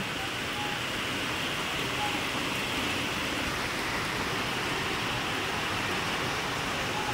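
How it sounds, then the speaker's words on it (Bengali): Heavy monsoon downpour pouring down outside a home, a dense, steady roar of rain that holds at an even level for the whole stretch, with no voices over it. "কি মুষলধারে বাপরে বৃষ্টি নেমেছে"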